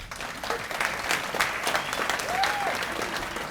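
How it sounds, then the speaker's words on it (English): Audience at a Winthrop chamber of commerce awards evening applauds the town's Speaker, a full, sustained round of clapping with a faint voice or two in the crowd. "how about another round of applause for Speaker DeLeo?"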